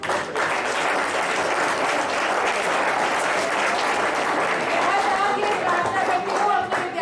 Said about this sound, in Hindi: अब लड़कों से मेरी गुजारिश कि लड़कियों के सम्मान में ताली बजाएं।